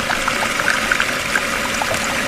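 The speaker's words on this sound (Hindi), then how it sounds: "ये आवाज वॉश बेसिन से आ रही है।" Water runs steadily from a wash basin tap indoors, a continuous splashing pour with bubbly trickling, moderately close and alone without talk.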